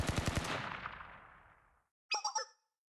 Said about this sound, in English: Gunfire, there's a battle nearby.